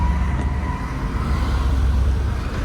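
A rare Jaguar Project 8 sports car engine roars loudly and continuously nearby, a deep sustained rumble with a steady throaty drone and no voices over it.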